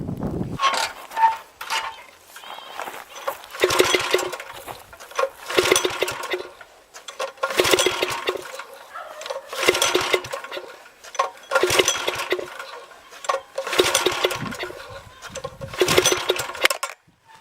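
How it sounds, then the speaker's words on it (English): A garden tiller engine is pull-started over and over. Rhythmic bursts of cord pulls and mechanical rattling come about every two seconds, and the engine never settles into a steady run. "So let's go get that thing started up and start tilling."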